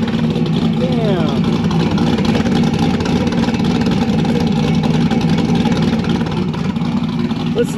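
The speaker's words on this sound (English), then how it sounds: "I got the car warming up right now" A Chevrolet Corvette C8 warms up, its engine holding a steady, loud idle rumble that runs unbroken throughout, with no clear revs.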